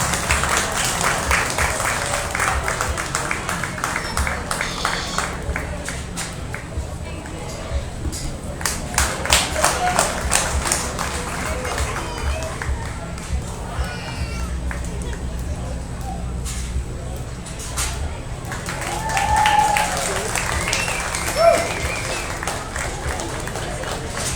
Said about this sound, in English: please put your hands together on a great group. Give them a nice round of applause